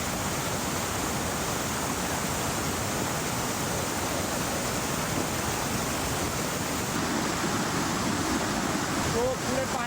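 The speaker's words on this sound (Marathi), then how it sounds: "पूर्ण वॉटरफॉल आहे आणि खाली असा रस्ता आहे जायला." Vasudhara waterfall in Bhandardara, near Sandan Valley, roars as a constant, loud broadband rush of falling water that fills the whole stretch without a break.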